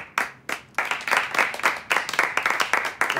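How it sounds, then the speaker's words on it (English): A small group claps in a series of distinct bursts at a meeting, the claps starting, stopping and resuming in quick uneven runs, fairly close and with no talk over them. "there's no need to clap"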